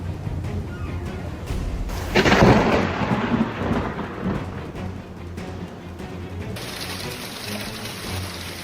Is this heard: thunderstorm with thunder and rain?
yes